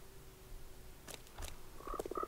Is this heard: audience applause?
no